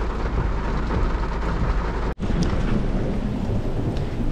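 Heavy rain pours down steadily and loudly as a dense, continuous hiss, broken by one brief sharp dropout midway.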